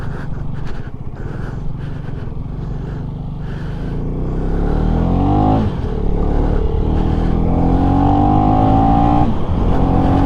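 A KTM Duke 250 motorcycle pulls away in first gear, its engine rising from a rough idle into a loud, close, climbing rev, then shifting and climbing again with a steady buzzing drone.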